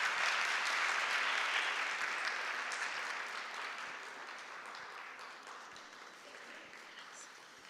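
An audience applauds a singer and ghazal maestro at a panel event, a quiet, steady wash of clapping that gradually tapers off over several seconds.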